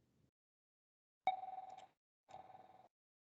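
A telephone rings in a quiet room, two electronic ring bursts with a short pause between them, fairly near and clear with no talk over them.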